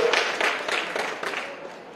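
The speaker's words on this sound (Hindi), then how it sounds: "ताली बजाओ, सहमत हो?" An audience at a panchgavya gathering in Jharkhand claps in agreement, a short run of uneven hand claps in loose bursts that thin out and fade after about two seconds.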